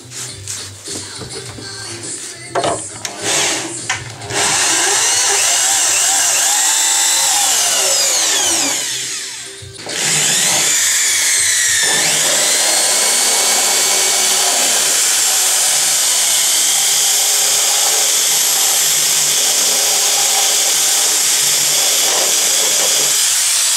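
A power drill bores an 11 mm hole while fitting a new traction box on a Mac 6+, its loud whine running nearly continuously with a brief dip midway before resuming, close up with no talk.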